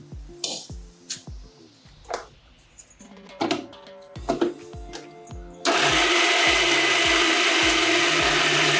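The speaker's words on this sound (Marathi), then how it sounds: "तर मी आता ही शाबूस तांदूळ जरा बारीक करून घेते" A kitchen mixer grinder grinds sabudana for sabudana vada. Clatter and clinking from the jar come first, then the motor starts abruptly and runs at a loud, steady whir until the end.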